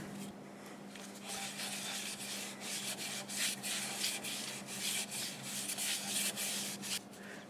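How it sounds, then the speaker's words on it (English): Shellac-based sanding sealer is rubbed onto a turned Siberian elm bell with burls: a steady, soft scrubbing hiss over a low motor hum, continuing without pause. "Now I'm going to put some shellac based sanding sealer on it."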